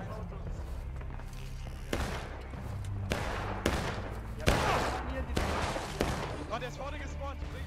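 Gunfire in the game War of Rights crackles in repeated bursts, some sharp single shots and some rapid volleys, loud and close against a low rumbling background.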